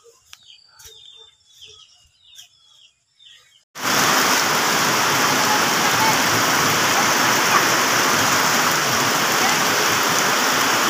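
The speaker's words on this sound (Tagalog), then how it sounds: "Malapit na. Patila na ng ulan." Steady, loud rain pours down without a break from about four seconds on, after a quieter stretch of faint chirps and clicks at the start.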